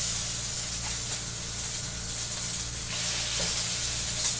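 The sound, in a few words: salmon fillets searing in hot pan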